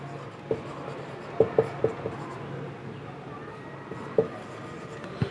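Chalk or marker strikes a classroom board during a Hindi-language biology lesson on reproduction: a handful of sharp taps and short strokes at irregular intervals, fairly close, over a steady low room hum.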